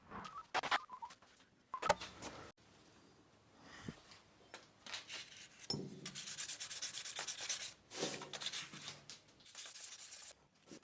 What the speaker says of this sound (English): I used progressive sandpaper grits, mostly by hand.